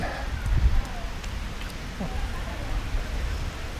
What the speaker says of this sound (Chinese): 突然就下起了大雨